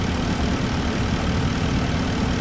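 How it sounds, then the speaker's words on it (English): Porsche Cayenne engine idling after a water pump replacement while the coolant bleeds with the reservoir cap off, a steady low rumbling drone heard up close and alone, with no change in pitch. "I'm going to go ahead and leave the car running for a good 10 to 15 minutes with the cap off"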